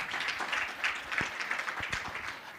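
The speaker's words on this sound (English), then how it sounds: "Another round of applause for Eddie." Conference audience at a mental health and addiction session applauding, a soft, fairly distant patter of clapping that holds steady throughout.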